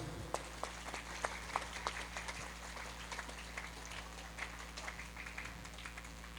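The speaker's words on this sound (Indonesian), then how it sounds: "Tepuk tangan semuanya." Scattered applause from an audience at an Islamic religious gathering, with faint, uneven claps that are fairly distant, over a low steady hum and no voices.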